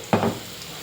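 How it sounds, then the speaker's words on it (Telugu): A brief burst of frying and stirring in a pan, a short sizzle and scrape near the mic that fades quickly. "దీన్ని ఇలా పచ్చివాసన పోయేదాకా వేపుతున్నాం"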